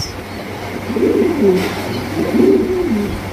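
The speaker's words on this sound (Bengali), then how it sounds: "এখানে রয়েছে একটা ডেনিশ কবুতর" A Danish pigeon coos twice in low, rolling throaty phrases, close by, over a steady background hum.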